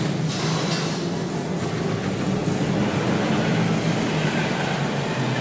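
A train rolls past in Dead Island, a loud, continuous rumbling roar with a steady broadband rush that holds for several seconds without a break.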